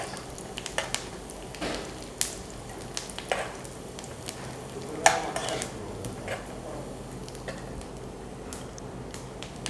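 Cashew nuts fry in a pan for payasam, a soft crackling sizzle broken by scattered clinks and stirring scrapes of a spoon against the metal.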